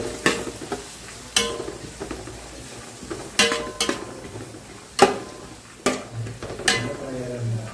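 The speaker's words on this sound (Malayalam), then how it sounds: "നമ്മൾ നല്ലതായിട്ട് ഒന്ന് വഴറ്റുക." Ingredients for Kerala-style chicken biryani are sautéed in ghee in a pan, a low sizzle broken by repeated sharp clanks and scrapes of a spoon against the pan every second or so, with no talking.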